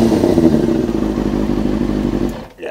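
A motorcycle engine runs loud and close with a throaty, steady note, then cuts off abruptly near the end.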